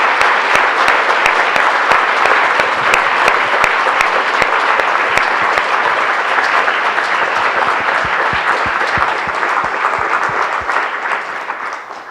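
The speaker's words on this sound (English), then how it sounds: "join me in applause for Bill and his life" Loud, sustained audience applause in a lecture hall as a tribute to a late colleague, dense clapping from many hands continuing steadily for about twelve seconds before easing slightly at the end.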